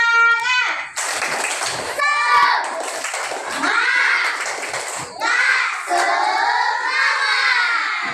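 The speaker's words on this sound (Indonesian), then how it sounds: "Dan tepuk semangat." A group of children claps out a spirited rhythmic cheer in a classroom, sharp bursts of clapping in patterned groups mixed with their shouting voices, loud and close.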